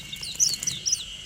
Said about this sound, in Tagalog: Puro mga huni ng ibon.